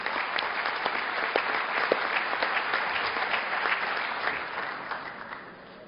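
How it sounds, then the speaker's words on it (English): An audience applauds past president Michael Nutter at an event on sports and racism: sustained, dense clapping from a sizeable crowd, even and fairly loud throughout, easing slightly toward the end with no speech over it. "Let's give a round of applause for our very own past president,"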